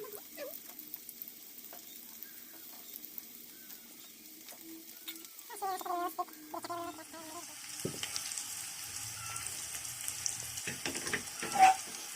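Taro leaf vadis fry in a pan of oil with a soft, steady sizzle and patter, faint and close, with stirring clatter and scraping that pick up partway through.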